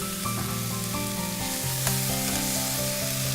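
Risotto simmers and sizzles in a pan in a cooking-show kitchen, a steady hiss underneath a layer of melodic background music with no pauses.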